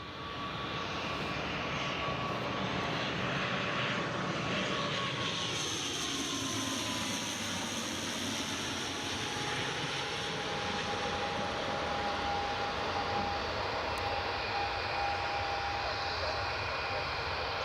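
Boeing 737 landing at Newcastle Airport, with a loud, steady jet engine roar that sustains throughout and shifts in pitch as the aircraft passes nearby, with wind noise heard alongside.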